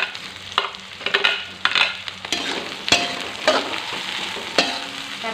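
Red, curly and bird's-eye chilies stir-fried in a pan for spicy tuna, a loud continuous sizzle with repeated scraping strokes of a spatula at an uneven rhythm, with no voices.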